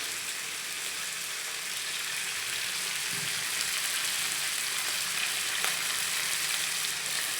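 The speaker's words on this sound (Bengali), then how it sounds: "প্রথমে আমি মাছগুলো ভালোভাবে ভেজে নেব" Tilapia fish frying in hot oil gives a steady, fairly loud sizzle that crackles evenly from start to finish, with no voices.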